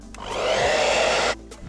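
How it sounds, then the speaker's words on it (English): Hair dryer or heat gun set to low heat, a loud steady blowing whir that ramps up, holds for about a second and cuts off abruptly, close by with no talk. "you want to get a hair dryer or a heat gun, as I said. Put it on low heat mode and just go over that"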